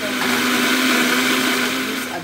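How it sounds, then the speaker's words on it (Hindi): A mixer grinder blends mango milkshake at home, a loud steady motor whir that runs without pause throughout. "उसके बाद हम ये मिक्सर से ग्राइंड करेंगे।"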